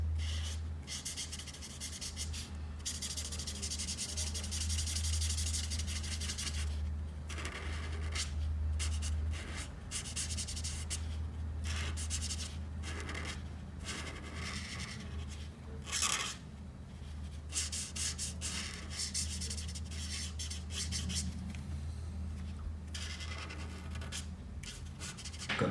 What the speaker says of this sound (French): avec une couleur Potalo Brown, donc un marron assez clair, on va venir colorier le reste